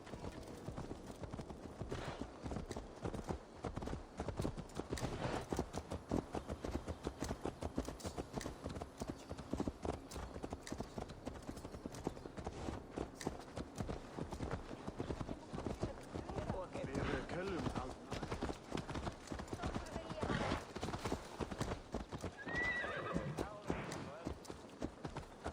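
Horse hooves pound steadily in Assassin's Creed Valhalla, a fast, continuous galloping clatter that stays close and moderately loud through the whole stretch, with game talk faintly underneath.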